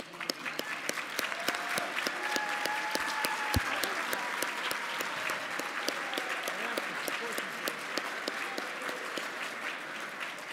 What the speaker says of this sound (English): let's have a round of applause for them